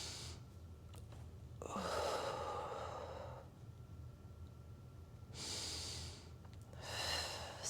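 A slow, deep breath drawn in and let out during a Pilates mat workout, airy and close, repeated in two or three soft inhale-exhale cycles over a low background hum.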